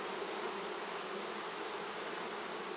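Honey bees buzz continuously around an opened hive frame during an inspection, a dense, even drone of many wings close by with no talk.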